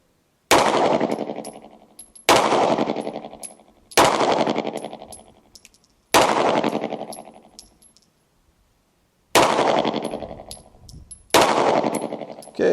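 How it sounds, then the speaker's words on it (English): Six loud, sharp handgun shots ring out during a live-fire CCW qualification at the Ben Clark Training Center range. Each crack has a ringing tail, spaced a second or two apart with a longer pause before the last two. "On the command to hit them, you will fire your 6 rounds."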